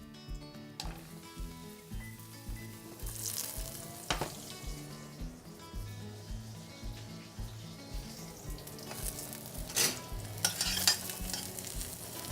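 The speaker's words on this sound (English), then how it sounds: "I'm gonna get some coconut oil into the pan. And then we'll get our mushrooms going first" Mushrooms fry in coconut oil in a hot pan, a loud continuous sizzle under repeated stirring and scraping, with sharper clatters of utensil on pan, close up and with no talking.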